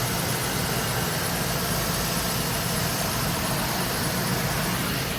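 A 2012 GMC Savana cutaway box truck engine idles, a steady, even rumble with a constant hiss and no change in pace.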